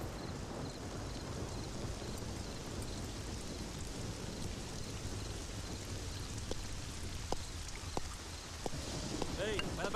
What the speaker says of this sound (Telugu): వర్షం వస్తున్నది సారు